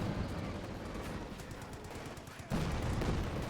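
A Jackson tank destroyer's 90mm gun firing in a Company of Heroes 2 match: a continuous rattle of battlefield gunfire, then a sudden heavier report partway through that raises the din.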